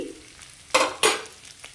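Boiled meat frying with garlic in a pan, two loud bursts of sizzling stir-fry scraping after a quiet start, close and alone with no voices.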